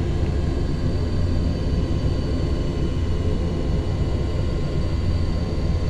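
A Boeing 707 in the flight simulator FSX descends on approach, its steady, loud engine roar and broad rumble holding unbroken throughout with no voices.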